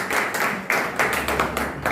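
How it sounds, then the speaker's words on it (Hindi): An audience at a community gathering claps to welcome guests, a dense, steady wash of applause that swells and dips over two seconds. "तो तालियों के साथ अपने मेहमानों का खैर मकदम होना चाहिए।"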